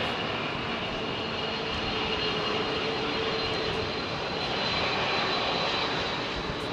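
Airbus A380 jet departing London Heathrow runway 27R, a steady loud engine roar held throughout without pause.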